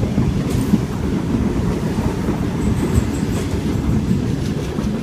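A Sydney Tangara suburban train passes a station platform, a steady loud rumble of wheels and carriages with faint clicking rail joints, close by and continuous, without voices.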